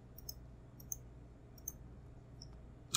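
Computer mouse clicks while Alt-clicking points in Adobe Illustrator: a few sharp, faint, isolated clicks spaced irregularly over a quiet background hum, with a slightly louder click at the end.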